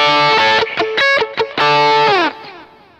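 Electric guitar through a BOSS GT-1 plays a short phrase of chords and notes, the last chord ringing out into a splashy, springy reverb tail from a spring reverb effect.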